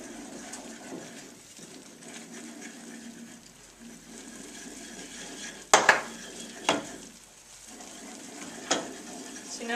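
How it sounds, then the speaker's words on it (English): Stuffing mixture being stirred in a pan, with a low sizzling and scraping texture throughout and several sharper spoon knocks against the metal near the end. "slowly and mix it in so there's no lumps"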